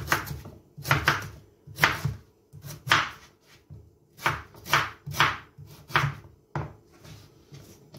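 A knife dices celery on a cutting board, a quick series of crisp thuds in short runs, close up with no talking.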